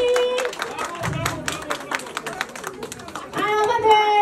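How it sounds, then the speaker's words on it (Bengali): An audience at a Bangladeshi pitha festival in Canada claps in a lively burst of hand claps, mixed with talking and children's voices, swelling again toward the end. "আঙ্কেলের জন্য জোরে হাততালি"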